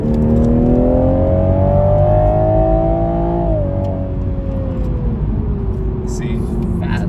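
A 2021 Toyota Supra 3.0 pulls uphill, its engine note rising steadily and loud from inside the cabin, then easing and dropping in pitch as the car shifts.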